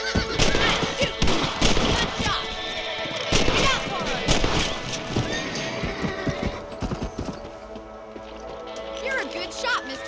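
Rifle shots at rabbits in the Western video game Red Dead Redemption crack out in a quick cluster, mixed with horse hooves clip-clopping and a whinny, while characters talk throughout.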